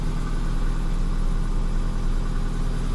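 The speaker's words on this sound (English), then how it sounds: "We just let it get a little bit of heat and temp into the engine" A Ford Fiesta with a misfire idles while it warms up, giving a loud, steady, close-up engine drone with a low, uneven pulsing and no talk.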